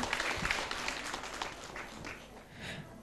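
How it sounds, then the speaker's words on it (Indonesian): A burst of audience applause, dense clapping that gradually thins and fades over a few seconds. "Tepuk tangannya mana Bu untuk sponsor kita?"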